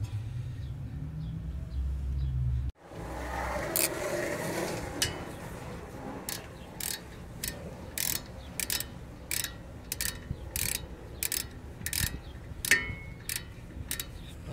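Ratchet tightening the brake caliper bolts on a 2005–2010 Honda Odyssey during a front brake pad job: a steady series of sharp, close metallic clicks repeating in a regular rhythm, with no talk.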